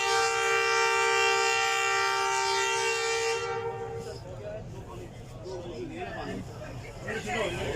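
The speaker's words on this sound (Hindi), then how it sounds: "लोकोमोटिव ने विशेल दे दी।" Locomotive whistle at Shahdara Bagh Junction railway station on the Ravi Express, a loud sustained harmonic blast lasting about four seconds, then fading into station noise and indistinct voices.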